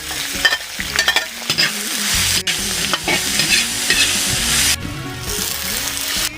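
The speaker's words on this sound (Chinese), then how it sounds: "再炒2个小毛菜" Small leafy greens stir-fried in a hot wok, a loud steady sizzle broken by scraping and clanking stirs of the spatula, close up, with no talking.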